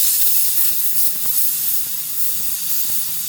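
A mini sand blaster sprays abrasive to strip paint from a primed Hot Wheels die-cast car; a steady, close airy hiss runs throughout, with faint ticks and small fluctuations as the fine nozzle sputters.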